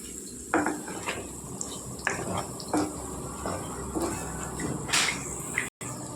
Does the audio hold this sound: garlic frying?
yes